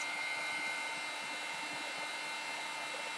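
A blow dryer runs steadily and close up throughout, a constant airy whoosh with no talk, drying a freshly applied alcohol-based color spray.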